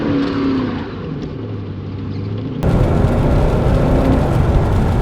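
A Porsche 928 S4 V8 launches hard at a drag strip: a steady idle rumble gives way to a sudden loud, broadband roar of revving engine and spinning tyres that holds strong to the end.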